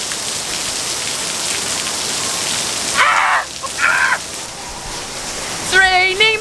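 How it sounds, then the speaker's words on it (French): Steady hiss of rain falling throughout, with a few short birdlike chirps and squeaks breaking through near the middle and end. "Ah, ça pleut, ça pleut."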